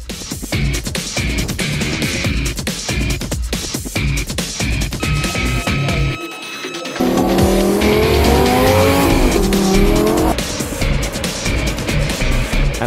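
GT race cars, including a Ferrari 458 GT2, roar loudly at a race start at Vallelunga, engines revving hard through upshifts with tire squeal as the pack accelerates away.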